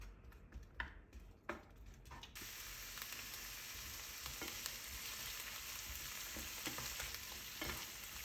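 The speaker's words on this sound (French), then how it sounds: "Quand l'huile commence à chauffer, on rajoute l'oignon." A few light tapping clicks come first, then onion goes into hot oil in a pan and a steady, fairly quiet sizzle takes over with soft crackles for the rest.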